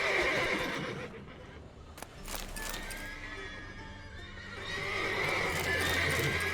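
Horses neighing loudly and repeatedly over a steady bed of hoof clip-clops, the whinnies rising and falling in long calls with a short sharp knock midway, heard alone without talk.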